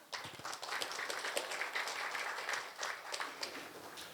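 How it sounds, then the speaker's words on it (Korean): An audience at the 5th Busan Ocean Finance Seminar claps steadily to welcome the next speaker, a dense, even patter of hands sustained for several seconds with no talking. "큰 박수로 환영해 주시기 바랍니다"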